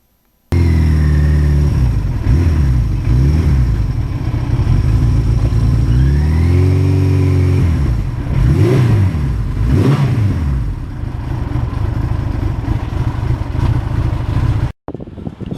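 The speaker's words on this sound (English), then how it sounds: "But even with the WINDSLAYER, the wind noise is very annoying." Riding a motorcycle fitted with a WINDSLAYER wind deflector, recorded on a GoPro 3 in a populated area: steady, loud rushing wind buffeting over a continuous engine drone with rising and falling revs, no voices, ending abruptly.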